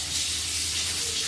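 Kitchen tap runs in a steady, close hiss of water while hands are washed during cookie baking, a continuous splashing rush with no pauses over a brief moment.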